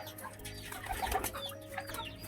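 Pigeons bathing in water on a hot day, with close wet flapping of wings, splashing flutters and faint soft cooing, fairly quiet and continuous without talk.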